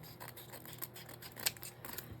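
Scissors snip through paper for a journal art collage at close range, a few soft crunching cuts with one sharper snip midway, alone without talk.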